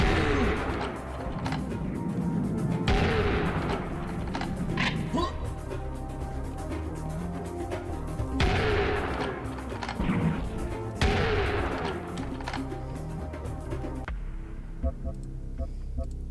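Double-barrel shotgun firing in the Serious Sam video game, several heavy booming blasts spaced a few seconds apart over a dense, continuous game soundscape, loud and close.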